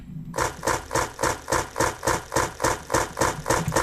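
Rapid, evenly spaced footsteps in an Unreal Engine 4 game, about three per second, steady and fairly close, the same step sound repeating with no talking.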